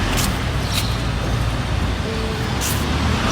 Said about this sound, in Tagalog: Oh, may sasakyan.